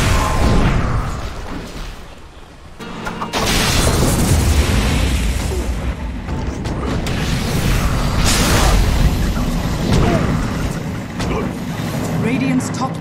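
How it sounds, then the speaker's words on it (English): Dota 2 match combat with booming explosions and bursts of attack sounds as a bottom tower is assaulted, dense and continuous throughout with an announcer-style voice in the mix. "Dire's bottom tower is under attack."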